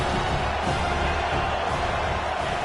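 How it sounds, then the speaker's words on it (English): A large stadium crowd at a college football game roars continuously during a red-zone defensive stand, a dense, loud, unbroken wall of noise without distinct voices. "And here comes the noise. This crowd is trying to inspire this defense to make a big red zone stop."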